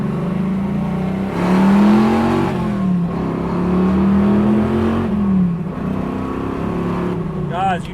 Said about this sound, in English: The American V8 just sounds amazing.